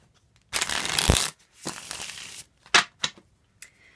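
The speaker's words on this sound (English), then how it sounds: "One more shuffle," A deck of tarot cards is shuffled in several close, crisp bursts of riffling and flapping, one long burst followed by shorter ones, with no talking.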